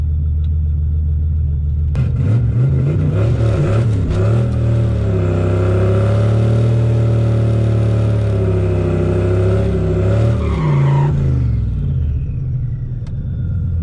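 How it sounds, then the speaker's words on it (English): A turbocharged Ford Foxbody roars through a burnout and launch at a drag strip test-and-tune night, a loud rumbling engine that swells into a sustained high-revving wail for several seconds, then drops away abruptly. "big old burnout, baby. nice launch here, boys"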